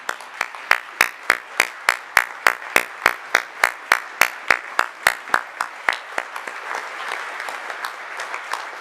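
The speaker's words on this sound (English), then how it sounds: "Please give them a round of applause." Applause in a legislative assembly chamber, heard as sharp, evenly spaced claps that stay crisp at first, then blur into a looser patter of scattered clapping as it fades near the end.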